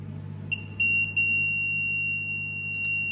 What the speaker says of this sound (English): It will give a beep when it's got touched on using the edge find circuit.